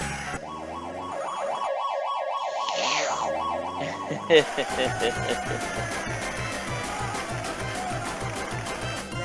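Wailing electronic ambulance siren from the 1989 SNK arcade game Street Smart, loud and rising and falling steadily, then giving way to a pulsing synthesized music loop after a sharp hit.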